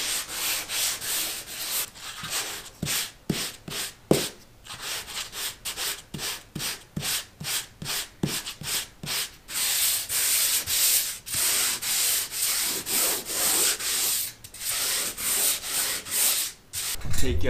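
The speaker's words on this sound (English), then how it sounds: "I wanna do the final sanding" Rhythmic scraping of sanding joint compound over a ceiling surface, repeated back-and-forth strokes in quick succession, close and steady with brief pauses.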